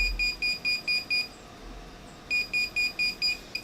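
Garrett PRO-Pointer AT metal detector right on top of a coin, giving rapid, evenly spaced high-pitched beeps in a run of five, a brief pause, then another fast run of beeps, loud and close.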